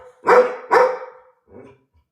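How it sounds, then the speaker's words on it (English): A dog barks twice in quick succession, close and clear, followed by a softer third bark in a quiet setting. "Yeah, you can hear it, Noah's bark"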